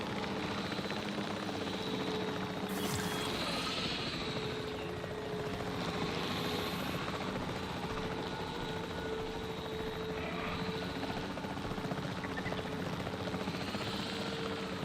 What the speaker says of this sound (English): This chopper is so stupid.